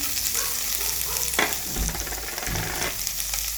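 Curry leaves and capsicum pieces with green chili sizzle steadily in hot oil in a pan while poha is cooked, a constant close frying hiss with occasional stirring clatter.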